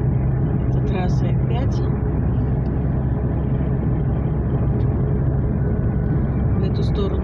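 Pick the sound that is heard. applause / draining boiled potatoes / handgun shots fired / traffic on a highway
traffic on a highway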